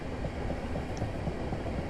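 A Southeastern passenger train runs between London Victoria and Orpington via Herne Hill, heard from inside as a steady low rumble with faint rhythmic clicks of the wheels over rail joints, and no speech.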